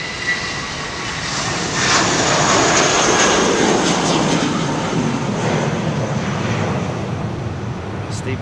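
A British Airways airliner at London Heathrow roars past in a loud, broad engine wash that swells toward the middle and slowly fades, steady and unbroken.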